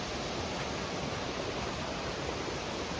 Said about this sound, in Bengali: এই দেখুন এই ঝর্ণাটা।